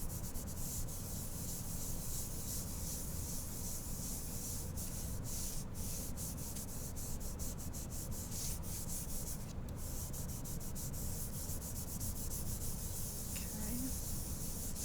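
Charcoal is blended on paper with light circular rubbing, producing a continuous close, soft scratchy friction with faint gritty ticks throughout and no talking.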